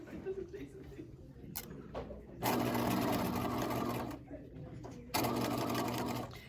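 A sewing machine stitches a bucket hat in two short, loud whirring bursts with quieter handling and clicks between them, close by, with no talk.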